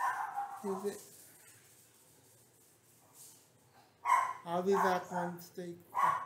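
A dog barks in short loud bursts, a couple near the start and a rapid cluster near the end, with someone talking over it.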